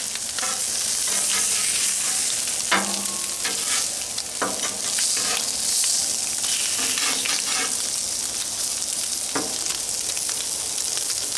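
Canadian bacon sizzles loudly in a pan for Eggs Benedict, a steady dense hiss and crackle with occasional sharp pops and scraping stirs, close and continuous without talk.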